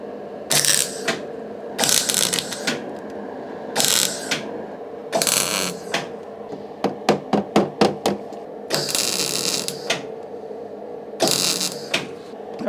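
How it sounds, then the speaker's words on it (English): A welder spot welds thin rusty front wing metal on a Porsche 924, producing loud bursts of harsh crackling buzz between pauses, with a run of short rapid pops in the middle. "So I'm going to start up the welder."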